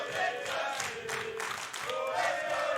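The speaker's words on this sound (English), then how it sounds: "I'm hearing some counter cheering coming out in here." An esports arena crowd at a Counter-Strike match between NiP and MIBR, the BLAST Premier 2020 event, sends up a broad, sustained wash of counter cheering and shouting that swells and dips steadily without any clear break.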